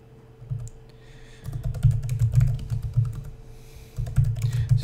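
Typing a command on a computer keyboard gives bursts of quick, close key clicks separated by a short pause, over a faint steady hum, with no talking.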